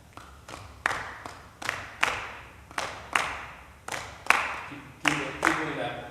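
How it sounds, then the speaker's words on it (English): Lecture audience clapping the Arara rhythmic hand-clapping pattern in unison, about a dozen sharp, evenly spaced claps in a steady repeating rhythm, close and clear. "in Arara, they have this clapping, hand clapping pattern that goes like this"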